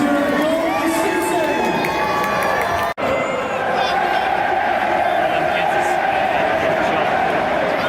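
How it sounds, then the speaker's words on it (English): A dense stadium crowd at the Etihad roars and cheers after a football goal is upheld, a loud sustained wall of voices with whoops and shouts, briefly cutting out for an instant before surging back just as strongly. "And a roar from the crowd as the goal is upheld."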